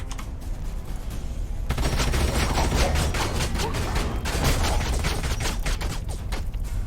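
Units firing in Age of Wonders: Planetfall, a loud crackling barrage of rapid gunshots that starts quietly and then thickens into dense overlapping bursts, with no talking.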